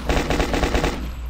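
Rapid automatic gunfire in the shooting game TLS: Union City, a loud close burst of about eight evenly spaced shots in quick rhythm, then cutting off; no voices.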